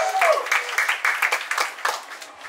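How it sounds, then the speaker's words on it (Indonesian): Short burst of applause from a small audience at an English and character camp event, a few uneven claps fading out within a couple of seconds. "Tepuk tangan buat Pak Koji Verias."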